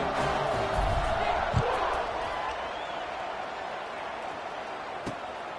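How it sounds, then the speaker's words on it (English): Stadium crowd roar in a Kent State college football video game against the CPU, a dense, steady wash of noise that stays loud throughout, easing slightly midway, with a couple of soft thumps. "You think this crowd's going to get loud when their defense comes on the field?"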